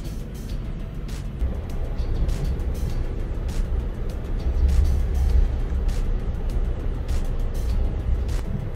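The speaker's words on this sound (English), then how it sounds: "We have a car behind us." A car drives up from behind and rolls past on a road, its broad engine and tire rumble swelling and easing at moderate distance amid steady road noise, with scattered faint knocks and no speech.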